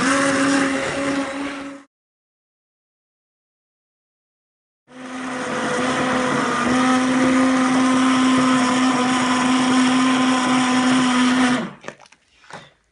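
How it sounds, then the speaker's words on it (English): A kitchen blender purees beef stew in two bursts: a short whir, a pause of silence, then a long steady high-pitched motor drone that cuts off and rattles briefly as it stops. "Right, I've removed the meat colander, I'm just going to blend it."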